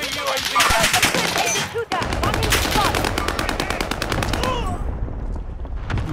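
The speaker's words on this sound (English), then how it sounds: "look at heavy fire!" Heavy automatic gunfire in Call of Duty: Modern Warfare, sustained rapid bursts that fill the whole stretch with only a brief break, loud and close, then trailing off near the end.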